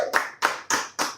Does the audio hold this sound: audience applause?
yes